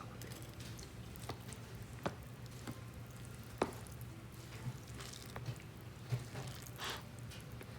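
Instant Nongshim tonkotsu ramen stirred together with its soup base and spicy sauce gives faint, scattered wet squishes and soft clicks against a quiet background.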